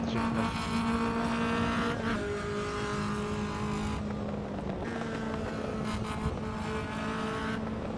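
A car with a remote-controlled exhaust in the racing game Assetto Corsa roars steadily at high revs, its engine note shifting up and down with gear changes and brief lifts, loud and close, with no talk.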